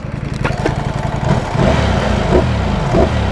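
Lamborghini Streetfighter STO motorcycle engine running close by: a steady idle rhythm with a couple of quick blips, then deeper, louder revving that rises and falls twice, capped below 4,000 rpm.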